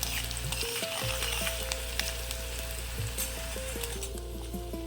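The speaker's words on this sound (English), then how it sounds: "Add the finely chopped onion and curry leaves to the kadhi and keep on stirring it." Chopped onion and curry leaves fry in kadhi in a pan with a continuous sizzle, broken up by irregular stirring scrapes and clicks. A low hum runs underneath and no one talks.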